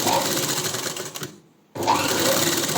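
A sewing machine stitches thread piping with a normal presser foot, running loud and steady, stopping briefly about halfway, then starting again at full speed; no one talks.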